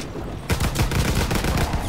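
Rapid bursts of gunfire from the WW2 zombies video game mode The Final Reich, starting abruptly after a brief lull and continuing as dense, loud, sustained shooting for the rest of the moment.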